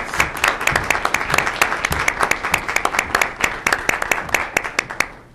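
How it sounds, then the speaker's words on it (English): An audience at a 2014 school district spelling bee claps for the contestants: a near, steady run of sharp, distinct hand claps lasting several seconds, with no talk over it. "a big round of applause for all our contestants."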